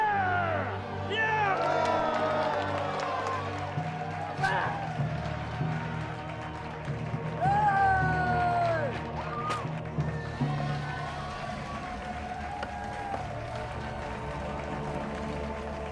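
A large arena crowd cheers and roars with whoops at a gladiator fight, loud and sustained, with brass-like tones rising over the din in the first half.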